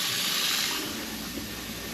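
Water pours steadily into an IKEA kitchen sink waste, a continuous broadband rushing hiss filling the short span without pause or voices.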